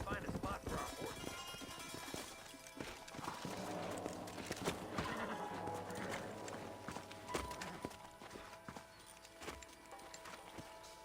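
Horses clip-clop in the Red Dead Redemption video game, a busy run of hoofbeats over a layered game soundtrack, with voices talking and other effects mixed in.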